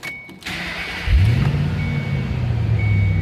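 A supercharged 4.6-liter V8 in a 2006 Saleen S281 Mustang convertible cranks briefly, catches and settles into a steady, deep, close idle rumble that holds to the end.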